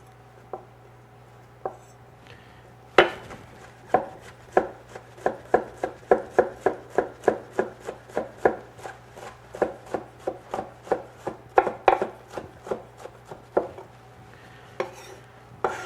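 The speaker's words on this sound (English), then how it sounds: "it's just sort of a rough chop thing" A knife rough-chops jalapeno peppers on a cutting board, a couple of isolated taps and then a steady run of crisp, evenly spaced chops, close and clear, with no talking.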